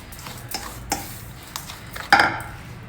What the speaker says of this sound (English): You can add about 3/4 cup of jaggery powder and mix it well. Mix everything well together.